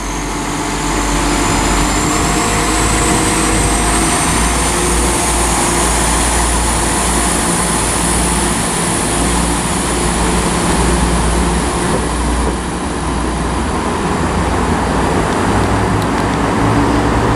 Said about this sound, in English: Departing as well is the 10:58 service to Stratford upon Avon.